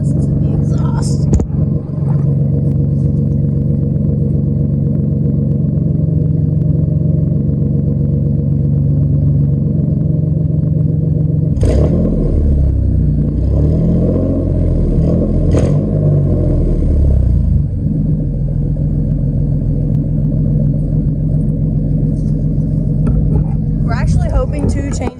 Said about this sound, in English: let's sit back here and listen to the exhaust